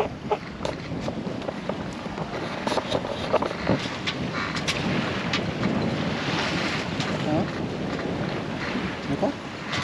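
Gusty wind buffets a Jeanneau Eolia sailboat out on the water, a loud continuous rush and flutter with sharp gust bursts and splashing, and faint voices now and then.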